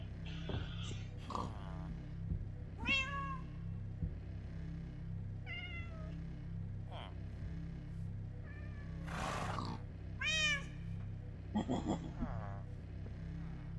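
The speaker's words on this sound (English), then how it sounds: "Where's the other cat that was stuck in here?" A cat in Minecraft, ATM9 Skyblock modpack, meows repeatedly. The calls are short and wavering and come every second or two over a steady low game hum.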